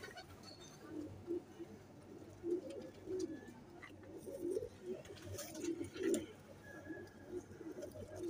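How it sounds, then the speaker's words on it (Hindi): Zakh Rampuri high-flying pigeons coo repeatedly in soft, low rolling calls, several birds close by, with faint background noise and occasional higher chirps. "ये दोस्तों जाख रामपुरी कबूतर हैं, ये एक ही ब्लड लाइन के।"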